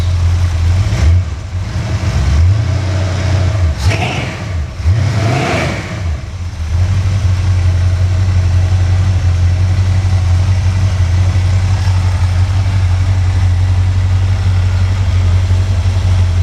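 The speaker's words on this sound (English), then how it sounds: "this motor Idle's real nice and smooth with the factory cam, I guess" An engine pulled from a car nicknamed Creampuff runs on a test stand with its factory cam, giving a few sharp revs before settling into a loud, steady, smooth idle that drones on close by without any voices.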